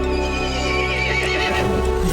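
A horse neighs in a Resident Evil Village video game cutscene: one loud, drawn-out whinny over a steady, dense background.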